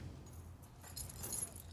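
Keys jangle and clink faintly in a TV drama scene, a soft metallic rattle over low background rumble, brighter and busier toward the end.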